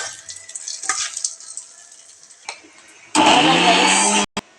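Hot tempering poured into tomato chutney bursts into a loud, dense sizzle lasting about a second, after quieter clinks and stirring, then cuts off abruptly.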